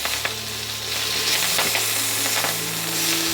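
Kale frying in a hot pan while being tossed with tongs for tacos: a loud, continuous sizzle with scraping and stirring clatter, no voices.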